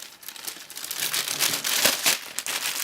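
Paper packaging crinkles and crackles as an AKAI MPK Mini MKII keyboard is unwrapped, close and fairly loud, with bursts of sharp crumpling that swell and fade over a few seconds, no voices.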